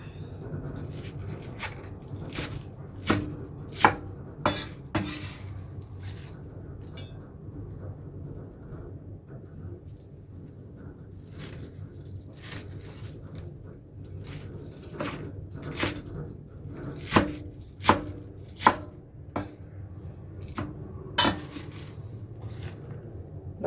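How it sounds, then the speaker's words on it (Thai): A knife taps sharply on a cutting board in irregular bursts of chops, close by, chopping spinach, over a steady low background hum. "เราก็จะมาหั่นเป็นชิ้น"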